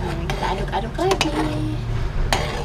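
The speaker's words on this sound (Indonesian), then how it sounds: "Aduk-aduk lagi." Utensil scraping and clinking in a pot while carrot is stirred into homemade baby food porridge, a few soft knocks and rubs close by under a faint background hum.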